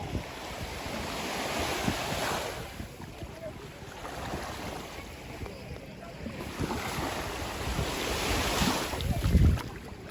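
Ocean waves wash onto a beach, with surf surging and receding in broad swells alongside gusty wind rumble on the microphone.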